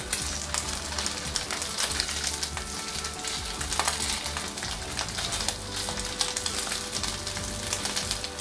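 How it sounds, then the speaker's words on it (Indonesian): Steady sizzling of chicken-stuffed tofu frying in hot oil, a continuous crackling hiss with occasional louder pops, close by and without talk. "Lalu goreng tahu yang sudah diisi daging ayam."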